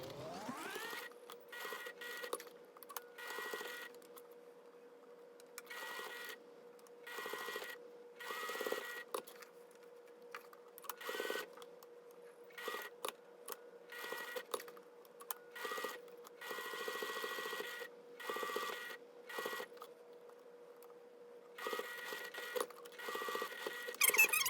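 A sewing machine stitches quilt binding, with a steady mechanical whir interrupted by frequent short pauses and restarts, close and fairly quiet throughout.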